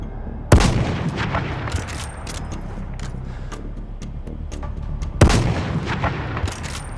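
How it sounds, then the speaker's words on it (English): Two loud, close sniper rifle shots ring out several seconds apart on a target range in the VR game Zero Caliber, each with a sharp crack and a rumbling tail, and faint ticks fill the gap between them. "Grab that rifle and shoot as many targets as you can in 30 seconds."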